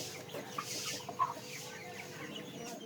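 An Asil rooster in a village setting eats rice and gives a few soft, scattered clucks close by over quiet rural background noise, with no talking.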